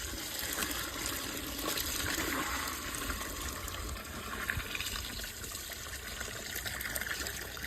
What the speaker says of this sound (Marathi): आता आपण याच्यात पाणी घालून घेऊ रस्स्यासाठी।